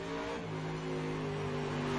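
A simulated race car in iRacing drives through a dirt-track corner with a stiffer right front spring, its engine droning steadily and loud throughout, with no voices over it.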